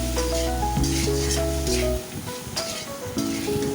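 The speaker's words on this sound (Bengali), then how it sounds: "এখন দিয়ে দেবো সিদ্ধ করা আলু মশলার সাথে আলুটা ভালো করে ভেজে নিতে" Boiled potatoes fry in a pan with cooked spice paste, a soft, steady sizzle running under background music that fades midway, leaving the hiss more exposed.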